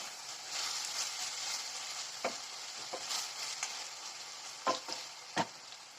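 Meat and onions fry in a pan with a steady moderate sizzle, broken by a few sharp clicks and scrapes of stirring, heard close with no talking.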